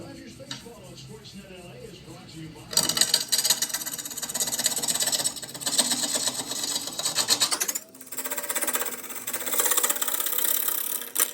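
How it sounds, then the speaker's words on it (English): A carbide lathe tool turning a reclaimed olive burl and resin bowl, giving a loud, steady scraping rasp in two long bursts separated by a brief quieter pause, close up with no talking. "I'm actually gonna do a little bit of this with a carbide tool."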